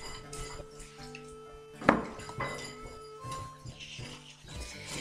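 Eggs, buttermilk, flour and breadcrumbs being mixed in a bowl for buttermilk chicken tenders, with clinking utensil-on-bowl knocks and scraping, one sharper clank near the middle, close up and fairly quiet, without talking.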